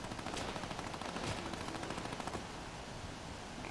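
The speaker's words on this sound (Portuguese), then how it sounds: "Olha o tiro comendo ali, ó." Rapid automatic gunfire in the Fortnite video game, a fast rattling burst of shots for a few seconds that then trails into quieter scattered fire, distant-sounding with no voices.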